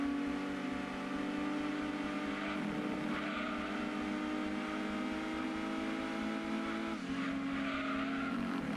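Engine of a Mazda MX-5 Miata in the racing game Gran Turismo 2, a steady droning hum that shifts pitch twice as gears change, holding a constant moderate level with no talk.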